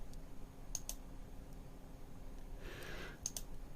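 Close typing on a computer keyboard while entering image dimensions for a Photoshop crop, a few sparse key clicks spread over several seconds, quiet room tone beneath.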